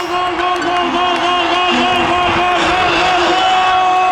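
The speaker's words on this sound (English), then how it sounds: "The crowd goes wild." Football crowd at an Iber Cup final roaring after a goal, a dense continuous wall of cheering and shouting with voices blended in, loud and steady throughout.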